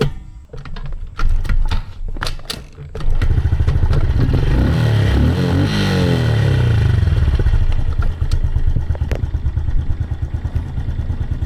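A dirt bike engine revs and clatters up close, rising and falling as it rides, loud and rough throughout.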